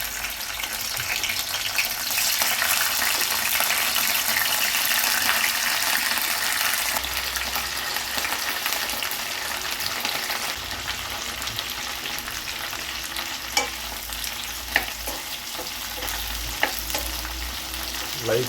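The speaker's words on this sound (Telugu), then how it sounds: "మనం ఈ ఆయిల్లో ఈ బెండకాయ ముక్కలు వేసుకొని ఫ్రై చేసుకోవాలి." Okra pieces frying in hot oil with curry leaves, a loud continuous hissing sizzle that surges as the pieces go in, later joined by a few sharp clinks of stirring, close with no talk.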